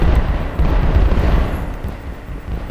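Massive chain of TNT explosions in a video game, roughly 1600 blocks detonating, as a loud continuous rumbling roar of overlapping blasts that persists throughout without letting up.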